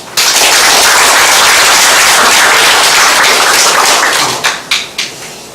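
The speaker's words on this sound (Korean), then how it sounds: "박수를 부탁드리겠습니다." Loud, sustained applause from an audience at a regional council forum in Jecheon, dense clapping that fills the room and then thins into a few last scattered claps at the end.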